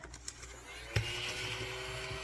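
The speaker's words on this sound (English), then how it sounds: "Get my vacuum here to clean that up." A household vacuum cleaner hums steadily at low volume close by, a sharp thump near the start marking it being picked up or switched on, then a constant whining drone with no talk.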